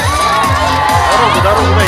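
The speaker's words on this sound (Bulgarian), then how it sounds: "Аплодисменты нашему президенту!" A crowd cheers for the president with shouts, whoops and excited voices mingling, among them children's voices. Close and loud, with rhythmic pulses of chanting or clapping repeating underneath the cheering.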